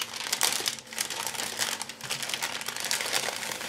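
Resealable plastic bag holding parts of an ICM ZiL-131 emergency truck model kit crinkles continuously up close, a dense steady rustle of handled plastic with no talking.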